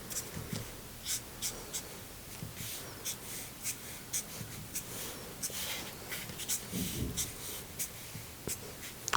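Pencil sketching lines of a football on paper, a close run of short scratchy strokes repeating at an uneven pace, quiet and alone.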